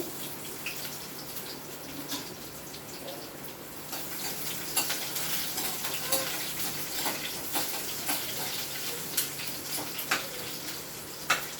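Curry leaves and onions sizzle in hot tempering oil for a lentil dish. The soft, continuous crackle is broken by light stirring clicks throughout.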